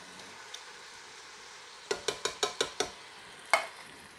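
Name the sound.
adding tomatoes to chorizo goulash in Ninja Foodi pot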